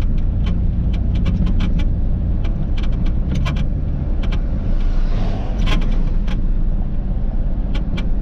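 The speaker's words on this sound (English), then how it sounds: "That scrap against my back window trying to blow it out." Loose scrap metal rattles against the back window of a truck hauling a load to a scrapyard, with scattered sharp clinks over a steady, loud engine and road roar, no talk.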